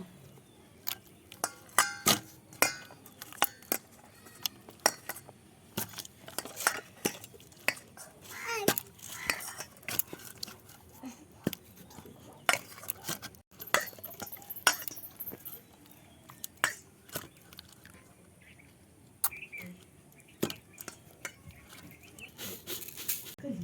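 Ripe mango pulp is mashed by hand for mango fritters, heard up close as quiet, irregular wet squishes and soft clicking pats scattered throughout.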